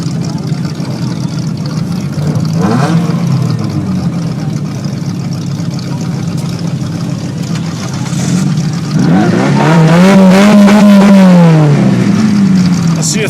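A race car engine fires up and revs, a steady drone building to a loud, rising-and-falling rev near the end, with voices talking over it.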